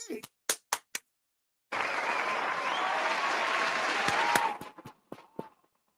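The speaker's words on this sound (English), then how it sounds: "Did you hear the cheering?" Crowd cheering and applause at a game, a sustained loud roar lasting a few seconds that swells and then fades, with sharp isolated claps and knocks before and after it.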